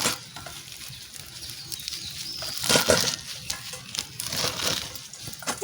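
Freshly picked, washed mustard greens are chopped with a knife. Close, soft crunching cuts and leafy rustling repeat unevenly against a quiet background.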